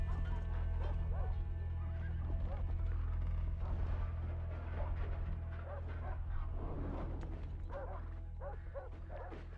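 Horses and cavalry arrive in the video game A Plague Tale: Innocence, with neighs, whinnies, clip-clopping hooves and barking dogs over a low steady hum, moderately distant and fairly quiet.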